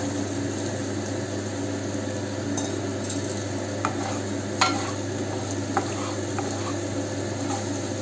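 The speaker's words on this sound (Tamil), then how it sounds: "இப்போ இந்த சேனக்கிழங்கு நம்ம கூட போட்டு வதக்கிக்கலாங்க" Elephant foot yam and half-softened onions sizzle steadily in a pan, a constant frying hiss with a few faint scrapes of stirring.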